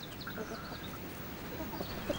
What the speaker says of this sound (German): Auch die Hühner haben Äpfel auf dem Speiseplan.